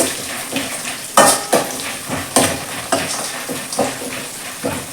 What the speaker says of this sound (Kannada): ನಾನು ಇಲ್ಲಿ ಪುಟಾಣಿ ಹಾಕ್ತಾ ಇದ್ದೀನಿ ಸ್ವಲ್ಪ ಇದನ್ನು ಕೂಡ ಫ್ರೈ ಮಾಡ್ಕೋಬೇಕು